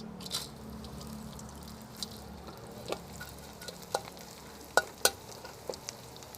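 Anchovies sizzle quietly in hot oil, with a soft steady crackle and occasional sharper pops and stirring taps.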